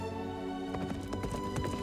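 A rescued horse's hooves clip-clop in a quick, uneven run of sharp strikes, moderately close, with no talk over them.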